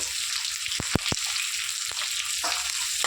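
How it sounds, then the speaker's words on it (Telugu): Capsicum and onion, cut into large pieces, stir-frying with garlic in a pan for meal maker manchurian, a steady close sizzle broken by a few sharp scraping clicks of a spatula, with no talk. "ఇవి కూడా కొంచెం లైట్గా ఫ్రై అవ్వనిద్దాం"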